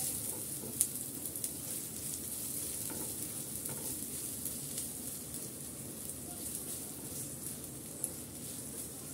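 Chopped onions fry in soybean oil with a soft, continuous sizzle and the occasional light click of stirring, fairly quiet and steady with no talking.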